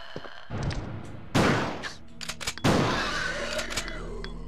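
Resident Evil 2 gunfire: two loud, sharp shots stand out among several smaller pops and thuds, close and punchy.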